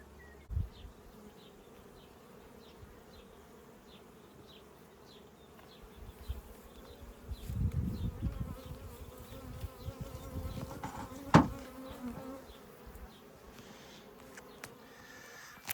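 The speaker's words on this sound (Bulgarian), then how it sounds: "Пчелите имат още да събират мед." Honey bees hum steadily around beehives in an apiary during a summer hive check, a continuous droning buzz that swells louder in the middle, with occasional nearby clunks and no voices.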